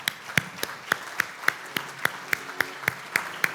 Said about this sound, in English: please give a warm round of applause for Matthew Weiner